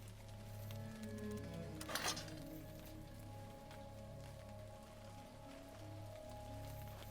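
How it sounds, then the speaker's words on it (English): Steady rain pitter-patter in the Crown Wars: The Black Prince video game, a soft continuous patter with a low droning tone beneath and one brief louder burst near the middle. "I'm really enjoying the rain effects on this map. The little pitter patter of rain."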